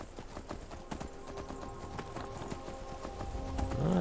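Horse hooves clop in a quick, steady galloping rhythm, close and clear, with a brief whinny near the end, in the video game The Elder Scrolls V: Skyrim.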